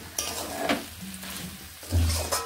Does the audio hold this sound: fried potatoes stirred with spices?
yes